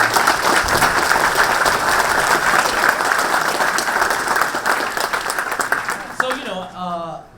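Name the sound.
audience applause at EVO 2015 Capcom panel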